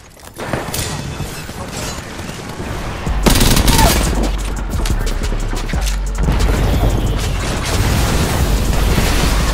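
Rapid gunfire from Apex Legends, dense bursts and volleys at close range with mechanical clatter between them, loud and continuous across the whole stretch.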